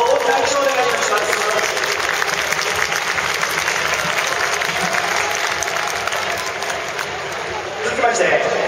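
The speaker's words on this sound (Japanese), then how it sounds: "どうぞ、大きな拍手をお願いいたします。" Loud, continuous audience applause at an award ceremony for a football club's monthly player prize, a dense clapping wash with crowd murmur that dips briefly before swelling again.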